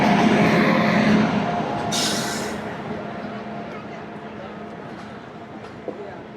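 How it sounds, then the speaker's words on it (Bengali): The 13152 Kolkata Express pulls into a station at Ayodhya Dham Junction with a steady, loud rumble of wheels and carriages that slowly fades, a brief hiss near the start and a sharp click late, with voices in the background. "আমাদের ট্রেন অবশেষে ঢুকলো"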